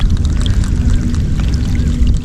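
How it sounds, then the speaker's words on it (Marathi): Heavy rain pours down over a muddy coastal crab-catching area, making a dense, loud, steady hiss and splatter throughout with no voices. "लावली सगळीकडून पाऊस आला"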